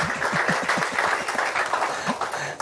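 Scattered applause from a church congregation during an online worship service, a loose, uneven patter of clapping that stays steady throughout with a faint low voice underneath.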